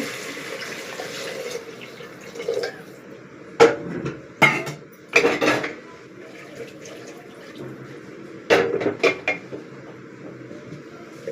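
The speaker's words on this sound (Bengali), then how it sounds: "এর মধ্যে পরিমাণ মতন জল অ্যাড করব" Water poured into a pan of chana dal curry in a home kitchen, a run of splashy pouring bursts with clinks of a utensil against the pan, close and fairly loud over a low background hum.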